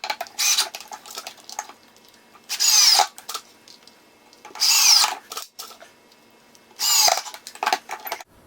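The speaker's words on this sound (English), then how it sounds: "So I'll need some pilot holes for the hinge on this side of the" Power drill boring pilot holes for a hinge into a wooden caster mounting board on a workbench, three or four short loud whirring bursts separated by pauses, close by with no talking.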